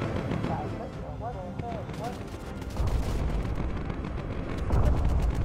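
Bomber cannon fire in the video game Bomber Crew, a rapid string of heavy booming shots layered over rumbling explosions and engine noise, with someone briefly talking over the barrage.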